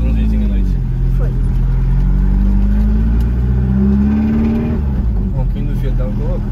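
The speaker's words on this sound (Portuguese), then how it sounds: "Ronquinho do Fiat tá louco." A Fiat 147 car driven at night with a freshly adjusted carburetor, its engine growling loud and close with a gruff drone that rises as it accelerates, then eases off.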